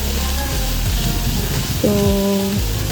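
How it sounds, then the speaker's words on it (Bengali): Spice paste sizzles steadily in hot oil for a Bengali fish curry, with turmeric sprinkled in, a continuous close crackle and hiss while a voice talks over it. "দিয়ে মশলাটা ভালো করে এখন কষিয়ে নিচ্ছি, এটা মাছের ঝোলের জন্য।"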